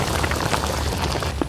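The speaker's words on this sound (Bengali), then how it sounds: "বৃষ্টি হইতেছে" Rain falls steadily as a dense, even patter of drops, fairly loud and continuous throughout, with no voices.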